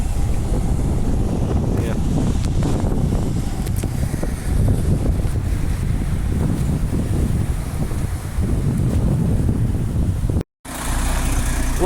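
Bus on route 955 pulling away from the Ellenbrook Town Centre bus stand, a steady engine rumble under heavy wind buffeting on the microphone, with a short cut near the end and a brief spoken word.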